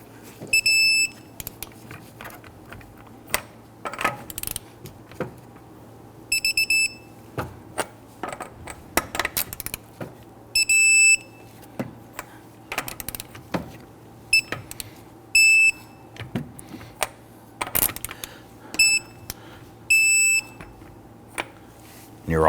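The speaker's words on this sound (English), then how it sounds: "Now let's go ahead and torque down our lug nuts to 100 foot-pounds." Lug nuts on a 2010-2019 Ford Taurus are torqued to 100 foot-pounds with a torque wrench: sharp mechanical clicks come repeatedly and irregularly, along with short bursts of high electronic beeping, all fairly close over a low steady background hum.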